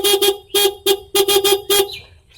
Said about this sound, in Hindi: और ये है हॉर्न,